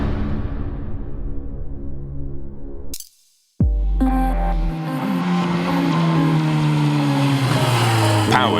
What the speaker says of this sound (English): Powered by the legendary GSXR-1000 engine, the GSXS-1000 delivers adrenaline-rushing performance.